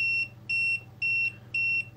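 A multimeter beeps slowly at three bars, giving four evenly spaced steady electronic tones, each about a quarter second long with equal gaps between them, over a faint low hum; close and clear, no speech.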